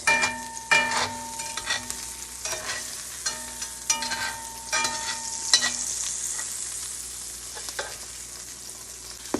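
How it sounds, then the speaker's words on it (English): Pan with oil and butter sizzling on the stove, shaken and stirred with clattering knocks and scrapes over a steady hiss, close by, with no talking. "I want to shake it to get that oil and butter throughout the pan again."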